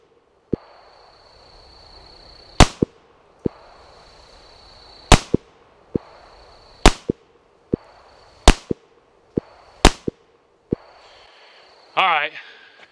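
Sharp single shots from a Beretta U22 NEOS .22 pistol at an outdoor range fire at a slow, steady pace, each crack loud and close, with a brief voice near the end.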